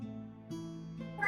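A voice imitating a meow for a rock slug creature, a drawn-out nasal, tonal call shifting pitch in steps and rising into a higher squeal at the end, close and clear with no other talk.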